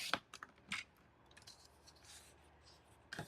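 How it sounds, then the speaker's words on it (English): Scissors cutting paper for a scrapbooking project, a few short, quiet snips and rustles spaced apart, with a longer cut at the end in a quiet room and no talking. "I'm going to cut it at 4."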